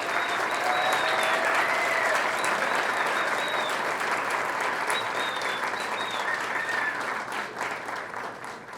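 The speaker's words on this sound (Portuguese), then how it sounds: "Aplaudamos o professor" An audience applauds Professor Olavo at an award ceremony of the Academia Cearense da Língua Portuguesa, where he receives the Hélio Melo medal. The dense, steady clapping is sustained throughout and thins slightly toward the end.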